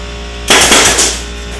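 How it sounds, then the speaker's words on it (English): An air gun fires once with a sharp broadband burst, loud and close, its noisy tail fading over about a second against a steady low hum on a film set under construction. "The deadly air gun."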